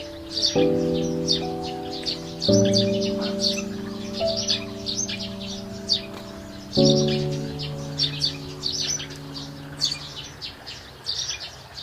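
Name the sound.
birds chirping around house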